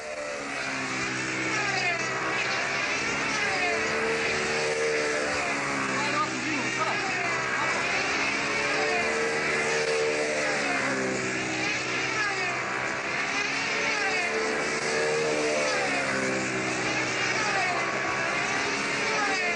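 A Super Tiger 60 two-stroke engine on a control-line model aircraft at the 1994 world championships screams at high pitch, steady and loud with slight wavering, while a commentator talks over it throughout.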